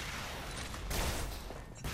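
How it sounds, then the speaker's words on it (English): Rapid shots traded between two players in an arena duel of the shooter game Xonotic on the map Fuse, a steady dense crackle of weapon fire that swells briefly midway with no one talking. "Both players popping shots at each other."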